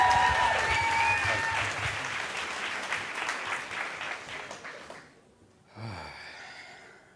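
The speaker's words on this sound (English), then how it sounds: "Keep that applause going for Andrew." Crowd applause at a Moth StorySLAM storytelling night in Los Angeles, loud at first and gradually thinning out, ending in near quiet before a breathy vocal sound.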